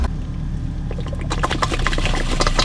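A boat's bilge pump, switched on manually, runs and drains water: a steady close mechanical hum that turns busier halfway through with gurgling, splashing water.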